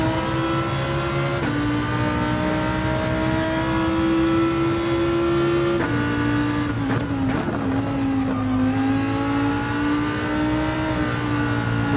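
A race car in Gran Turismo 7 accelerates hard up a hill, its engine whining upward in pitch and dropping back at each gear shift, loud and close throughout without talk.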